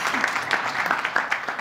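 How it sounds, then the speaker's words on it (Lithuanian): An audience at a panel discussion on a Tesla gigafactory in Lithuania applauds to welcome economy minister Mindaugas Sinkevičius, a short burst of scattered, moderately loud hand claps. "norėčiau, kad pasitiktumėte plojimais ūkio ministrą Mindaugą Sinkevičių"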